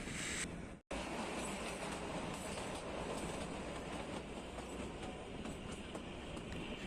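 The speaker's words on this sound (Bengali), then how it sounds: "এঁকে বেঁকে সাপের মতো টয় ট্রেন আমাদের নিয়ে।" The Kalka to Shimla toy train runs steadily on its narrow mountain line, a continuous close rumble of wheels and carriages with rattling clatter, after a brief dropout near the start.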